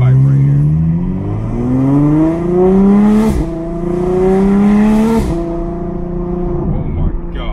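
A straight-piped Ferrari F12 V12 revving loudly up close, pitch sweeping up in two long rising pulls with a brief dip between, raw and blaring.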